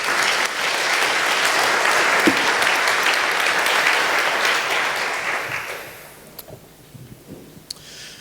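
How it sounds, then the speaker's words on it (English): An audience at a coffee debate event applauds, dense steady clapping that holds for several seconds then fades to a few scattered claps. "Round of applause, please."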